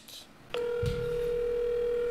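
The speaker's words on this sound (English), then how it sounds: "I just ended the phone on her." A telephone line gives a steady electronic tone right after a call is hung up, a clear sustained beep that starts abruptly and holds without a break, with a brief voice sound underneath.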